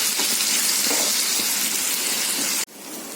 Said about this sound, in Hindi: 2 टेबलस्पून मैंने अदरक लहसुन का पेस्ट डाला है। इसको हम अच्छा से भून लेंगे